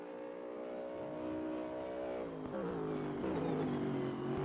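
A Chevy GT3 race car engine in a racing game revs with a steady tonal drone that climbs, dips at a gear change, then rises again, moderately loud and without talk.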